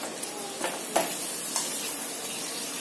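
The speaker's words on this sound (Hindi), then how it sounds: "तो इसी तरह से मैं जो है सारे पापड़ फ्राई कर लेती हूँ।" Potato papad fries in hot oil in a pan, a steady bright sizzle with a few sharp stirring or crackling bursts, close and alone.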